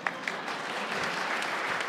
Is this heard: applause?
yes